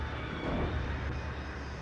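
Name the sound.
helicopter in the video game Alan Wake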